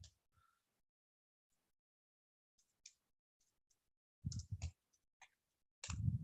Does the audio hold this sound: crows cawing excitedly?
no